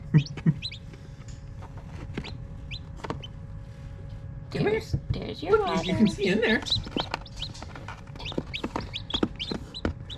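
Newly hatched baby chicks peeping in high, thin bursts, close by, under people talking.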